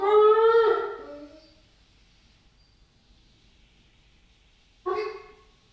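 A dog lets out a loud bark close by at a knock on the door, then silence for several seconds before a second short bark.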